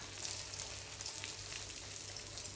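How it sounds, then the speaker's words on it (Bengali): Breadcrumb-coated chicken frying in oil, a soft, even sizzle and crackle that holds steady from start to finish with no voices over it. "এখন ভেজে নিব আস্তে আস্তে,"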